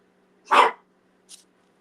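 A dog barks once, loud and close, in an otherwise quiet room, followed a moment later by a much fainter short yip.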